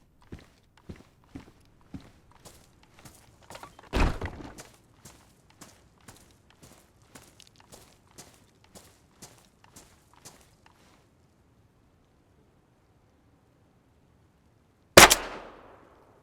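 In the Descent game, a flare is fired as one sharp, loud burst near the end, after a long run of soft, evenly spaced footstep-like thuds and a near-silent pause.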